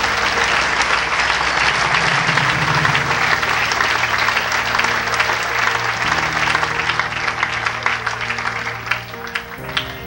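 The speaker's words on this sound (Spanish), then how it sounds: "Dale un aplauso al Señor con todo su corazón." A church congregation breaks into sustained, loud applause, with dense crowd clapping that holds steady for about ten seconds, tapers near the end, and carries a low background tone underneath.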